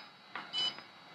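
A Walksnail Moonlight kit in bind mode gives a short, faint electronic beep, with a soft click before and after, in an otherwise quiet room.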